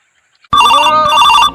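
A telephone bell rings loudly and close up in two quick bursts after a near-silent start, the ringing stopping abruptly with no talk over it.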